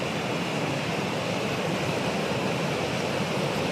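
Waterfall on a mountain pilgrimage trail, a dense, steady roar of rushing water filling the space evenly and continuously with no other sounds.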